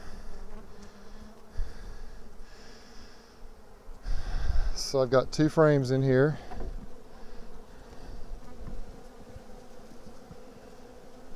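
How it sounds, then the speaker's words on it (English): Swarming honey bees high in a tree buzz in a steady, close hum throughout, while someone speaks briefly near the middle over the swarm. "there's quite a few bees there."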